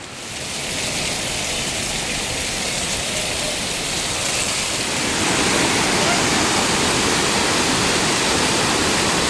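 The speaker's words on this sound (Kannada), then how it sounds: "ಇವಾಗ ಮಳೆ ಇರೋದ್ರಿಂದ ತುಂಬ ಚೆನ್ನಾಗಿ ಜೋರಾಗಿ ಬರ್ತಿದೆ ನೀರು" Honnamma waterfall in Chikkamagaluru, swollen after rain, roars as a dense, continuous rush of falling water that builds slightly louder partway through, with people talking faintly beneath it.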